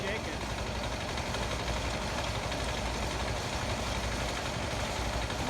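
A cheap Chinese 168F single-cylinder diesel engine runs at full throttle, rough and shaking on its belts, giving a steady, dense, loud mechanical drone with no letup.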